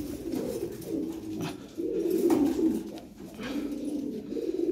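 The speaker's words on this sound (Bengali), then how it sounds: "এই যে দেখেন কবুতর" Lahori pigeons cooing close by, low throaty coos repeating in soft rolling phrases over faint background noise.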